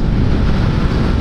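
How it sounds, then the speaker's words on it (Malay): Strong wind buffets the microphone in a loud, continuous roar with no break while riding a Honda RS150 motorcycle. "Angin kuat gila"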